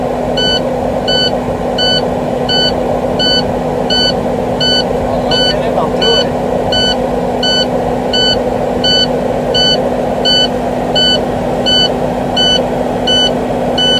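A steady, rapid electronic air brake low-pressure warning buzzer pulses over a running truck engine, with someone speaking briefly over the idle.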